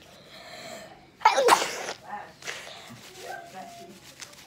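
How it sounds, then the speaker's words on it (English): A single loud, sharp human sneeze bursts out about a second in, followed by quieter breathy sounds and rustling in a morning indoor setting. "Sneezed again."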